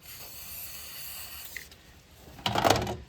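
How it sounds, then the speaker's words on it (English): Aerosol lubricant sprays onto a part of a Polaris Ace 500 UTV in a short, loud hissing burst near the end, after a quiet stretch with a faint mechanical hum. "spray a little lube in this"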